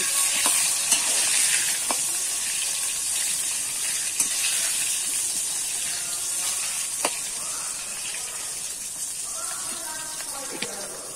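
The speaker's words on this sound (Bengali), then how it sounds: "লবণ হলুদ দিয়ে কিন্তু আমি বেগুনটাকে লাল লাল করে ভেজে নেব।" Eggplant fries in a pan with salt and turmeric, a steady bright sizzle running throughout, punctuated by occasional stirring clicks and scrapes, close and even in level.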